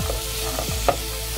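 Onion frying in ghee in a pan for butter paneer, with a dense sizzle and quick stirring scrapes, including one sharper knock near the end.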